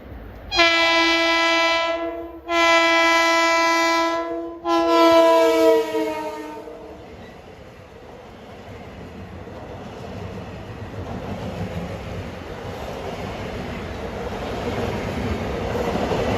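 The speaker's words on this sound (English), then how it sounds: "Here comes 656 diesel, Long Island City to Port Jefferson, the first of the rush hour fleet to Port Jeff." A Long Island Rail Road diesel commuter train, eastbound on the Port Jefferson Branch at a Cold Spring Harbor grade crossing, sounds three loud chord horn blasts, long-long-short, followed by a steady rumble as the train rolls past.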